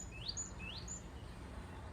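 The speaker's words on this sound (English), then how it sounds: "You can perhaps hear the birds singing" A bird in the woodland beside a seven-acre country park gives two quick rising chirps followed by a short whistle, faint and distant over a quiet outdoor hush.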